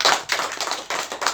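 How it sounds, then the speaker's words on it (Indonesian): An audience claps at a rice distribution event held by a PDI Perjuangan branch, a short burst of dense, nearby clapping pulsing in uneven waves with no talk over it. "Tepuk tangan."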